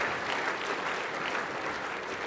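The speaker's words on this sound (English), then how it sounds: "can we give him a round of applause?" Audience at a Cauliflower Club lunch applauding the Waratahs rugby coach, a steady, dense round of clapping that stays even and fairly close throughout, with no voices standing out.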